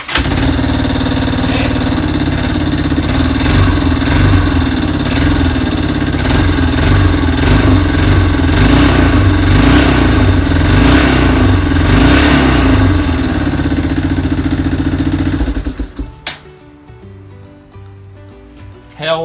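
A small engine, started with the choke on, runs loudly and roughly at close range with a steady idle, then cuts out abruptly near the end, leaving near silence.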